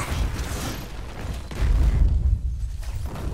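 Deep rumbling booms from an explosion in Crackdown 3, a heavy low-end blast swelling midway and rolling on, with no voices.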